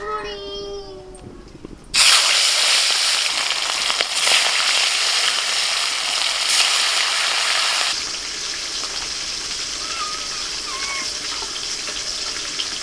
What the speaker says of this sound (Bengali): এখন মাছটা ভেজে নেব। কড়াই সরষের তেল দিয়ে দিচ্ছি।